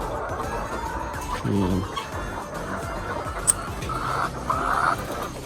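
RTL laying hens cluck steadily in a busy coop, several birds overlapping with murmuring clucks and an occasional sharper call, close and continuous.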